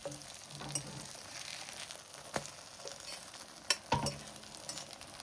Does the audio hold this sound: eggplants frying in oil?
yes